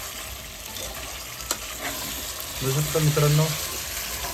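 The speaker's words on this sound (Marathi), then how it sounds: "आता याला थोडं फिरवून मिक्स करायचं." Chicken pulao is stirred and fried in a pan, giving a steady sizzle with scraping stirring strokes that grow louder toward the end, while a person talks briefly over it.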